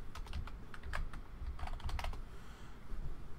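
Rapid clatter of keys on a computer keyboard in bursts and pauses, close and fairly quiet over a low background rumble, with no one speaking.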